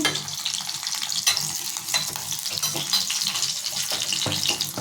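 Green chillies fry in hot oil in a pan with a continuous close, bright sizzle and crackle, occasional stirring scrapes, no voices.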